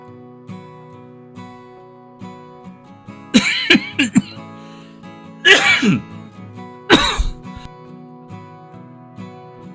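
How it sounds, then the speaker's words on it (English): A person coughs hard in several harsh bursts, a quick cluster and then two louder single hacks, over quiet game music with no talk. "in the middle of that coughing jag"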